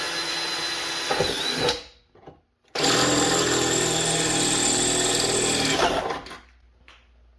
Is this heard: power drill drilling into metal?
yes